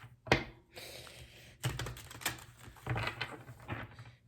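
Tarot cards are shuffled by hand up close, producing quick bursts of soft riffling taps and patter separated by short pauses.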